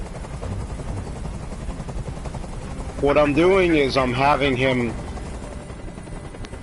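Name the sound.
helicopter noise, from the video game Detroit: Become Human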